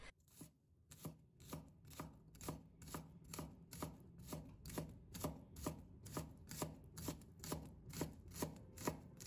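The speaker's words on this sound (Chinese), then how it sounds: "葱白切成葱花" A knife chops scallion whites into small pieces on a cutting board in quick, even strokes, roughly two to three crisp taps per second, close up and unbroken by speech.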